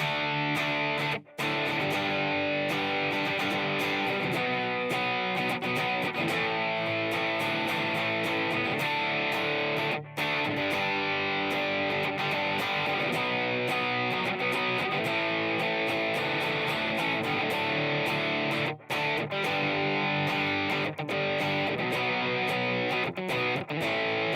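A distorted electric guitar, driven by a Greenchild K818 mid boost into distortion, plays continuously with thick, saturated tone and sustained chords, loud and close, with a few brief gaps.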